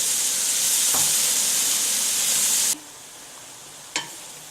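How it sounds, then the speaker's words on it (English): Cabbage and carrots wilting in a pot for an Italian sausage and cabbage stew give off a steady, loud frying sizzle that cuts off abruptly, followed by quieter simmering and a brief utensil clink or stir. "we want to wilt this cabbage down and cook it until the carrots in there are nice and soft"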